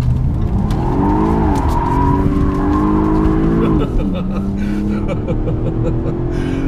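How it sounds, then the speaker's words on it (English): A 2016 Jaguar XF 35t R-Sport engine roars close and loud through a wild U-turn, its pitch rising and dipping steadily with brief tyre noise as it powers around. "So that was a little bit of a wild U-turn there, but it demonstrates the performance."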